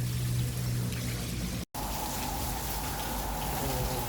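Steady rain pours down near a moored boat during the February rainy season, a dense hiss that briefly cuts out and then resumes at the same level.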